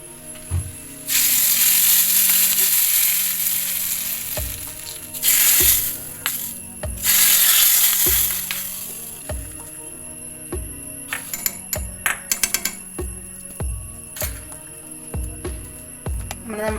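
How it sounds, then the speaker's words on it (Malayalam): Mustard seeds, shallots and curry leaves hit hot oil for a tempering, bursting into loud hissing sizzles and rapid seed pops that come in several surges, then fade into scattered crackles and clicks. "ഇനി നമുക്കിതിൽ കടുക് താളിച്ചാൽ മതി. കടുക് താളിക്കാൻ കുറച്ച് ചെറിയുള്ളിയും ഒരു ചെറിയുള്ളിയും കുറച്ച് കറിവേപ്പിലയും മാത്രം."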